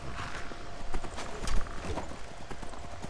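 Horse hooves clip-clop in the video game Skyrim, a steady run of rhythmic footfalls heard close over a busy game soundscape, with no talk.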